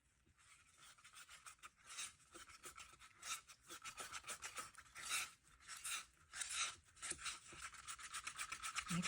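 Grape Juice resin ink is stirred into epoxy resin in a cup, with quiet, rapid scraping and rubbing strokes of a stir stick against the cup walls in an uneven rhythm, close up and alone.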